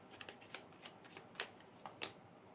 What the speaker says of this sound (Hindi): ये है कार्ड्स जो मैं निकाल रही हूँ।